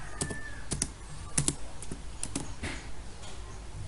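Fingers tap out a few short, irregular bursts of keystrokes on a computer keyboard close by while entering JavaScript code, with pauses between clusters of clicks.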